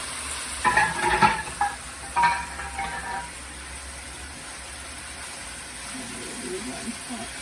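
Shrimp coated in dry curry seasoning sizzle and fry in a hot pan for Singapore mei fun, with a few louder bursts of stirring and clatter early on, then a steady low sizzle.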